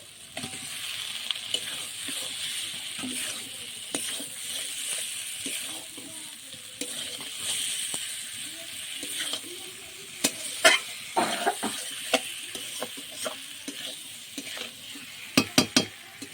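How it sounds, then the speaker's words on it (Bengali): Boiled potato stirred into a sizzling pan of fried spice masala, with steady frying hiss and repeated scraping of the spoon close by, a few sharper clinks near the end; no talking. "মশলাটা খুব সুন্দর করে কষিয়ে নিয়েছি। এবার দিয়ে দেবো সিদ্ধ করা আলুটা।"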